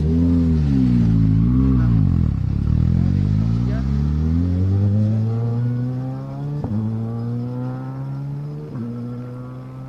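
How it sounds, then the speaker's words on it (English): A rally car on the Serras de Fafe e Felgueiras 2021 stage climbs through the gears, the engine note sweeping up and dropping at each shift, loud and close then easing off, under commentary. "Sounds quite cool going up through the gearbox as he heads over the hill and on"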